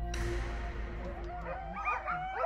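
Sled dogs resting beside a frozen lake in Finnish Lapland give soft whimpers and yips with a few faint barks, close by and fairly quiet, over a low steady background hum.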